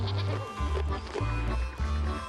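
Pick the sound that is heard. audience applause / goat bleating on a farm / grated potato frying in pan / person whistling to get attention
goat bleating on a farm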